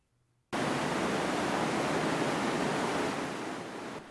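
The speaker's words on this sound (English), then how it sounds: "This is what the water screw would sound like if engineering faculty were running tests right now." A fiberglass water screw turning in falling water, built by USU engineers to draw energy from the flow, starts with a sudden onset and becomes a loud, steady broadband rush of pouring water that holds throughout and eases slightly at the end.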